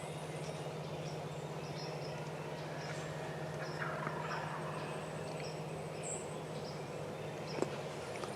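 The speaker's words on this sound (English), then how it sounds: "They've been gobbling forever in the wood, in the trees." Far-off wild turkey gobbles carry from the trees over a constant low hum, faint and scattered, with one sharp click near the end, in Ohio.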